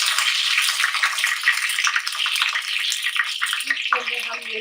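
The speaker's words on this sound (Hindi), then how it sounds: "देखिए राई हमारी हो चुकी है। इसके अंदर हम करी पत्ता डाल देंगे।" Curry leaves hit mustard seeds in hot oil for upma, producing a loud, steady crackling sizzle close up that runs throughout and eases slightly near the end.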